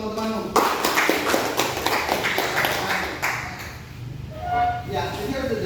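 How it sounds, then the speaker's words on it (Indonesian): Classroom audience clapping, a burst of hand claps that runs for a few seconds and tapers off, with voices talking over and after it. "Tepuk tangan dulu teman-teman."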